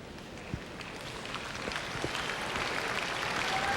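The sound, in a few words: rhythmic applause from curling crowd at the Agridome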